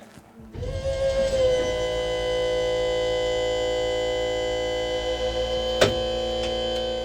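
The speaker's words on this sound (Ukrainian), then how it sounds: "Звук открытия аппарели, або закрытия" Hydraulic ramp of a Turkish-made Kirpi armored military vehicle opening or closing, a loud steady mechanical whine with constant tonal drone after a brief start-up, lasting several seconds, with a short sharp clank near the end.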